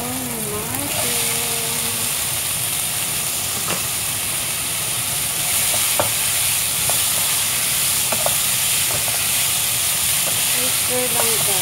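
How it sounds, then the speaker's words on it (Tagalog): Sausage and mushrooms stir-fry in a hot pan, a steady loud sizzle throughout with occasional clinks of a utensil against the pan and a brief voice early on. "Stir lang guys. Kasi nga stir fry, diba?"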